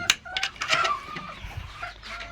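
Hybrid laying hens clucking at close range in short, repeated bursts, several birds calling over one another against quiet farm background.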